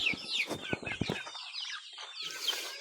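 Chickens clucking and calling in a busy flurry, several short bursts close by, with birds chattering in the background.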